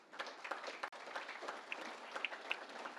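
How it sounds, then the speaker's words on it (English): Audience at a Manatee Tiger Bay Club political event gives a faint, distant round of applause, with sparse scattered claps throughout. "Please give her a round of applause."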